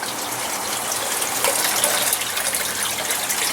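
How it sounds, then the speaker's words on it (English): Water from an aquaponic bed's bell siphon gushes and drains steadily into a sump tank, a loud continuous rushing flow with no voices. "The water level rises in here, sets off the bell siphon."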